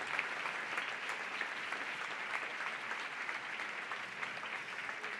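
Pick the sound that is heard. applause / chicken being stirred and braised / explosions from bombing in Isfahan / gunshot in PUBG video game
applause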